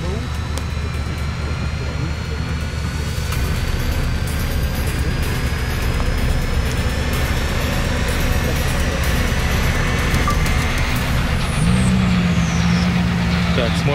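A Lada Niva drives through rough off-road terrain, its engine a steady, loud, continuous drone with a rising whine, close by. Voices are faintly present beneath it.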